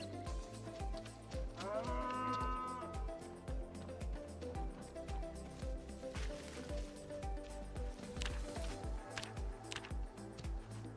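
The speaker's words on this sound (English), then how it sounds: "Especially since we got cows like these ones leaving the pen area." Cows in the survival game Project Zomboid wander out of a pen, lowing and mooing repeatedly over a rhythmic background of game sounds, moderately loud and close.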